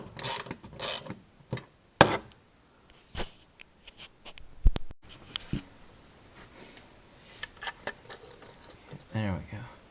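A ratchet with a 13mm socket loosens the plastic underbody cover bolts on a Mercedes-Benz C300 during an oil change: bursts of rapid clicking with clunks and metallic knocks, close by, between stretches of someone talking.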